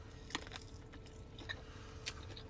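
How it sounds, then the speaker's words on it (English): Someone bites and chews raw vegetables and fruit up close, producing a few distinct crunchy bites amid softer wet chewing, fairly quiet with no talk. "I got a thing about chewing noises anyway"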